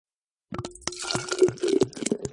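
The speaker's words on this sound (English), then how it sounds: "Then add the water to the pot." Water pours and splashes into a cooking pot in a children's winter kitchen game, a close, bubbling two-second fill with small drips and plops.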